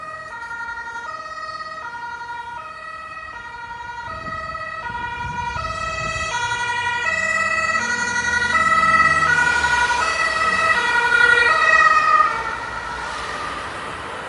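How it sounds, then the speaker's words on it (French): A two-tone ambulance siren wails steadily with an engine rumbling beneath, swelling louder before fading as it pulls away. "l'ambulance quitte lentement les lieux"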